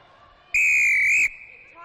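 A referee's whistle at an under-20 netball match gives one loud, sustained shrill blast of under a second over a quieter court background.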